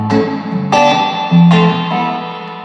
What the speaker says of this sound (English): That's reverb all the way up.